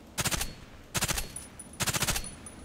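Three short automatic bursts from an FN P90 submachine gun in the shooter game Contract Wars, each a rapid string of about six crisp shots, evenly spaced and loud, with no voices.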